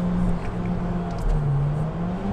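A Honda Civic Type R engine fitted with an aftermarket silencer hums steadily nearby at a low, even pitch, holding a constant drone without sharp revs throughout.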